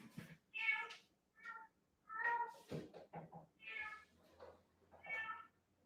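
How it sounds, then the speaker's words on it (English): A cat meowing outside a house, several distinct, fairly faint meows spaced irregularly across a few seconds, heard on their own with quiet gaps between calls. "There's a cat outside my house."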